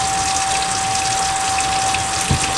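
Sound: hands being washed with soap under running tap water

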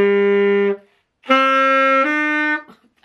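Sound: saxophone playing Amazing Grace notes

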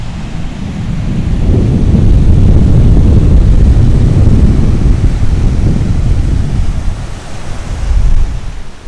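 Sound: sea waves at Praia da Alagoa beach, Algarve

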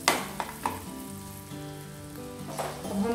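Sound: cashews frying in a pan

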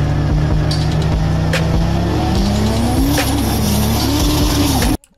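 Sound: car accelerating fast in a video game

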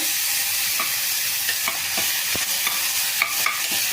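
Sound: frying tomatoes in oil for cabbage kurma

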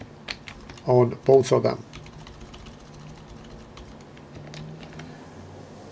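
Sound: typing on a computer keyboard

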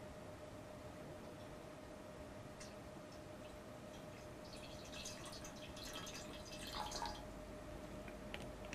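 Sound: water being poured into a vessel with a coin

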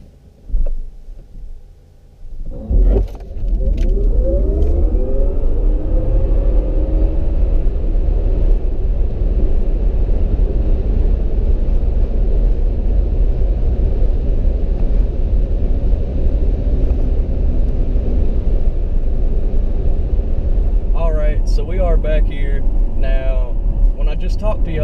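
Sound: Tesla P100D accelerating during 0-60 and quarter mile test

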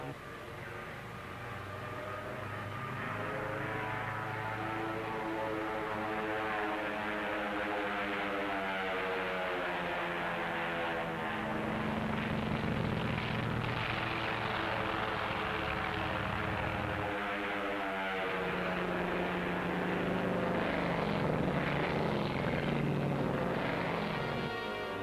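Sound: drone aircraft flying, 1946 Operation Crossroads atomic tests

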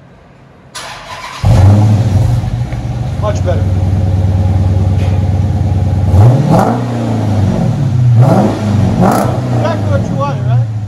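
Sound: Dodge Charger 5.7L HEMI Flowmaster exhaust revving, heard from inside

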